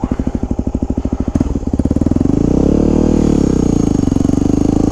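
A Yamaha WR250X motorcycle pulls a wheelie, its single-cylinder engine pulsing loud and close at first, then revving up into a rising, sustained drone as the front lifts.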